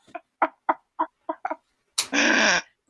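A series of short clucking bird calls in an irregular rhythm, then one long, loud, harsh squawk, close and clear.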